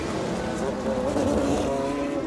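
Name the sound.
racing cars passing, Maserati passing the number 77 car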